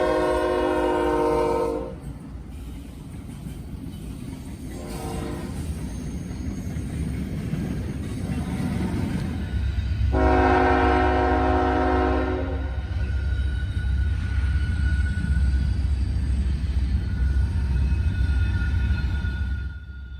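A Norfolk Southern northbound freight train rumbles past close by, its horn sounding in several long blasts at the start and again mid-pass, with the heavy roll of railcars building and continuing to the end.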